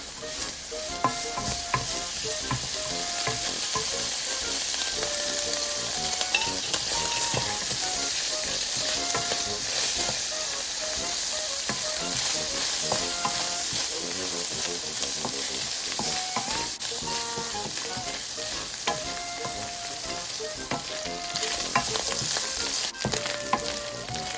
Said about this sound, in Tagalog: add 1 tablespoon of oil and you have to stir it well